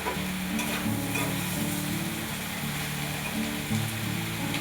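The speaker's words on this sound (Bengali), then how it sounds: "এদিকে পেঁয়াজকলি আলুটা ভাজা করব" Potatoes and spring onions frying and being stirred in a home kitchen pan, a steady moderate sizzle with occasional scraping stirs and a few louder bursts, no voices.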